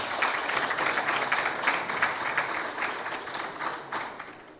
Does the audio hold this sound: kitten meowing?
no